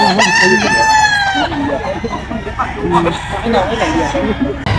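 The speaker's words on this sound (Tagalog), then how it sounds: "sa mga interesado po sa manok ni Boss Lando" A young Sweater gamecock stag crows loudly at the start in Bulacan, Philippines, followed by people talking and other farmyard clucking in the background.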